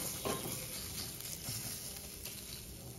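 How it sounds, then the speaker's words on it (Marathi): Hot oil tempering poured into semolina and bottle gourd batter sizzles and crackles close up, a steady fizzing hiss with a few brief pops. "ही फोडणी जी आहे ती आपल्या ह्या पिठात घालून घ्यायची।"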